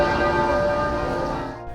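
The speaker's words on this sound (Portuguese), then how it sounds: "Os sinos de todas as igrejas da Inglaterra tocaram ao meio-dia" Church bells ring out at noon across England in tribute to Queen Elizabeth II, a loud sustained peal with long ringing overtones that slowly decays.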